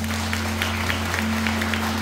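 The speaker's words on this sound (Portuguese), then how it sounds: "Pode aplaudir o Senhor, querido." Congregation applauding during a church sermon, soft sparse clapping over a steady low hum, fairly faint and continuous for two seconds.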